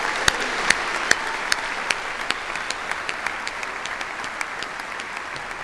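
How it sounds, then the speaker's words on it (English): Graduates and guests at a university business school commencement give sustained applause, a broad steady wash of clapping with a few sharp, close individual claps popping out at regular intervals. "let's give all of you a warm round of applause one more time"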